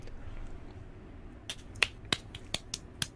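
Fingers snap as applause, about seven crisp, fairly close snaps in an uneven rhythm after a quiet start with low room noise.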